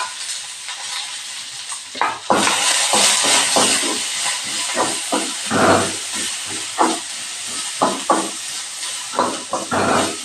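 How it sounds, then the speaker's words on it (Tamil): Onions, dried red chillies and curry leaves sizzle in hot oil, a steady frying hiss broken by repeated louder bursts as the pan is stirred, close and continuous throughout. "வரமிளகாய் போட்டு கருவேப்பிலை 2 போட்டு வெங்காயம் போட்டு வெங்காயம்"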